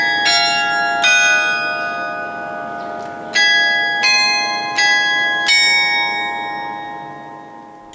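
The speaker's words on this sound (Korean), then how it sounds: "매일 경주 제1교회에서 울려 퍼지는 생명의 종소리입니다." A church bell at Gyeongju First Church in Gyeongju, South Korea rings with loud, resonant strikes, six or so spaced about a second apart, each note ringing on and slowly decaying.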